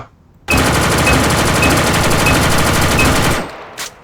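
An M16A2 Calima rifle in the Korean-server shooter A.V.A fires one loud, steady automatic burst of rapid shots lasting about three seconds, standing alone and close, then cuts off, followed by a brief faint click.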